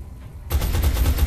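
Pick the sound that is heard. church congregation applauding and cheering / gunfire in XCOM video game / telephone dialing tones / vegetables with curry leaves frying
gunfire in XCOM video game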